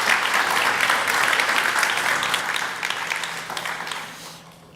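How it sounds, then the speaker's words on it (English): Conference audience at a developer summit applauds after a Q&A session, a broad, dense round of clapping that starts full and gradually thins and fades away toward the end, with no speech over it. "Big applause."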